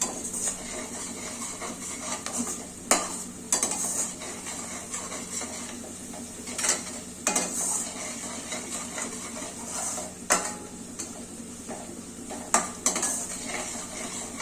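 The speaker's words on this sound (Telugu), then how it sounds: "ఇట్లా ఆయిల్లో ఎంచితేనే మెంతం కూర టేస్ట్ వస్తుంది అనమాట" Fenugreek leaves roasting in oil in a pan, stirred with a utensil that scrapes and clinks against the metal in irregular knocks over a low, steady background sizzle.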